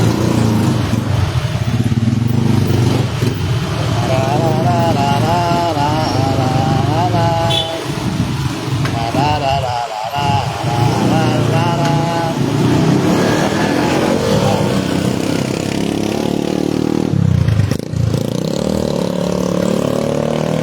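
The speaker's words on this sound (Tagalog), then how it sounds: "Traffic." Busy city street traffic in Makati, Manila, with motorcycles and cars idling and revving close by, a continuous engine drone under singing and talking voices.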